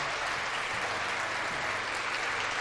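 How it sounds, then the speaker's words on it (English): A live audience at a political talk show breaks into dense, sustained clapping, loud and even throughout with a low murmur beneath. "You can applaud that."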